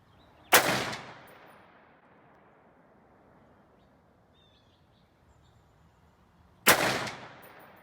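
Two loud shots from a Ruger SFAR 6.5 Creedmoor rifle, spaced about six seconds apart, each a sharp crack with a fading outdoor echo and quiet air between.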